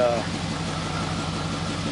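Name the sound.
1969 Chevrolet Impala 327 engine idling after carb rebuild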